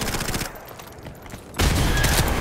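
Uzi submachine gun fire in Modern Warfare Remastered gameplay, loud rapid automatic bursts at the start, a brief lull with quieter shots, then a dense sustained burst at the end.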